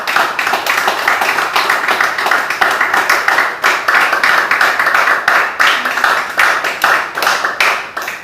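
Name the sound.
church congregation applauding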